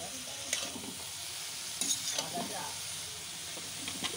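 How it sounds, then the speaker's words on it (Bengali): Vegetables for mixed fried rice are stirred in a hot pan with salt. A close, steady sizzle runs throughout, with scraping stir strokes breaking through now and then. "সবজিগুলো দিয়ে নেড়ে দিচ্ছি।"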